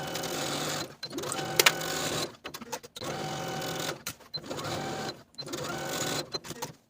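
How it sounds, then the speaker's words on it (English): Sewing machine stitching pockets onto a skirt with a half-inch seam, running in several steady loud bursts separated by short pauses. "And then sew those pockets to the skirt with a 1/2-inch seam allowance."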